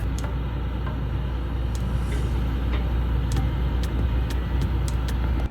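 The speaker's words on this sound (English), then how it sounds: "You constantly hear this ticking sound" A constant low rumbling drone from a Webasto bunk heater in a Volvo truck carries irregular sharp ticks that repeat every half second or so, close and fairly clear.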